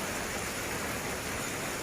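Steady rain pours down at Pak Tho railway station in Thailand, a continuous dense hiss with no breaks, close and even throughout.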